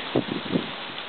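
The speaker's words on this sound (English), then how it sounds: "It's getting windy, guys." Wind blowing outdoors makes a steady, fairly faint broadband rush with a few soft gusts and leaf-like rustles, with no one speaking.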